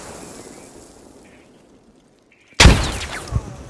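A frag grenade goes off in the game Squad. A sudden loud blast with a crashing tail follows a quiet lull, and a second thump comes a moment later.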